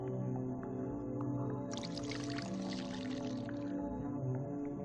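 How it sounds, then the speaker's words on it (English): Water poured into a graduated cylinder for measuring volume, a bright splashing burst that starts partway through and runs for about two seconds over a steady background hum. "Take a graduated cylinder and fill it with water."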